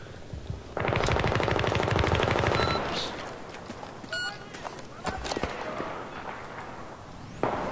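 Sustained machine gun fire in Battlefield 3 rattles as a loud, rapid burst for about two seconds, followed by scattered gunshots, impacts and clatter in a busy battlefield soundscape.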